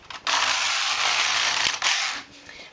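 A Neva-2 knitting machine carriage is pushed across the needle bed for one row: a steady, close mechanical rasping whir lasting about two seconds with a brief dip partway through, and no talk.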